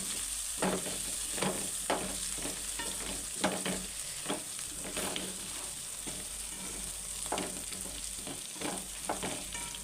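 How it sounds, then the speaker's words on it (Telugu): Paneer masala stirred through potatoes frying in a pan, a steady sizzle broken by regular scraping strokes of a spoon, close and fairly loud throughout. "మన పన్నీర్ మసాలా వేసి కలుపుకోవాలి"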